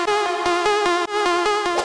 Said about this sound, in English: I'll start with my lead, and all I've got is this one layer that sounds like this.